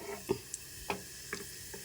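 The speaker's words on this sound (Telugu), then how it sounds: "చూడండి, మనకైతే బాగా చిట్పట్లాడుతున్నాయి కదండి" Seasoning seeds crackling and spluttering in hot oil for a yogurt curry, a few sharp pops spaced irregularly over a soft sizzle, close and fairly quiet.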